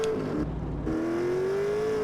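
Motorcycle engine in the video game GTA San Andreas, a steady whining drone that briefly dips and then climbs smoothly in pitch as it revs up, loud and continuous with no speech.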